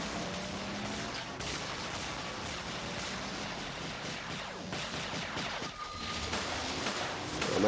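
Continuous gunfire and heavy explosive fire from combat robots in the War Robots game fill the scene with dense, steady battle noise, with occasional louder bursts toward the end.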